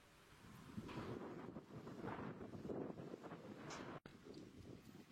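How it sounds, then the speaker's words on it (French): Wind gusts steadily at the seaside in Trouville-sur-Mer, Calvados, a continuous breathy rush with microphone buffeting and one sharp dropout near the end. "Le vent se lève."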